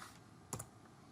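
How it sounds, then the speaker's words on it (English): A short cluster of a few quick keystrokes on a computer keyboard as an email address is typed, quiet and close, with no voices. "hit enter and type in our email address"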